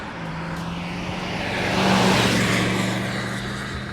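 A 1969 Chevrolet Camaro engine idles and revs gently in a steady, subdued low rumble with no exhaust leaks, swelling slightly louder midway before settling back, with no voices.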